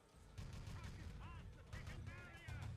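MP40 submachine guns in Enemy Territory crack out rapid bursts of gunfire in game combat, forming low, dense booming thumps in several clustered volleys under excited commentary.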